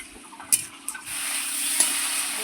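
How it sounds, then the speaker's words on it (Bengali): Spice paste and potatoes, with a splash of bowl-rinse water, sautéed in a pan: a few sharp spatula clinks, then a steady close sizzle with another scrape near the end. "জলটা দিয়ে আবারও আমি খুব সুন্দর করে কষিয়ে নেব।"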